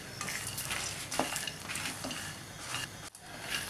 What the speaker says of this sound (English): Roast it.